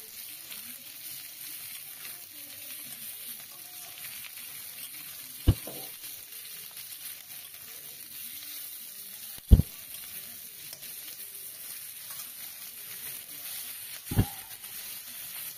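Onion and capsicum fry in a pan for cabbage Manchurian, producing a steady, quiet sizzle punctuated by three sharp knocks of a spatula against the pan.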